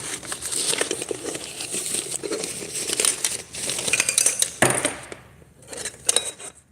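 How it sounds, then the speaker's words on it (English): Metal pieces of a 24-piece portable camp cooking set clank and clink as pots, pans and lids are handled, an irregular run of close rattles and knocks with a brief lull before more jangling. "it's supposed to be a 24-piece portable camp cooking set"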